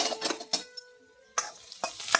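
Onions and red chillies frying in a pan, with short bursts of sizzle and utensil scraping separated by a quiet gap holding a faint tonal ring, close and brief.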